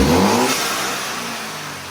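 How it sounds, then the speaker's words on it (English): An Audi car engine revs as the gas pedal is pushed, a loud surge at the start that eases into a steady, fading mid-pitched drone with no talk over it. "when I tell you to, push the gas, okay?"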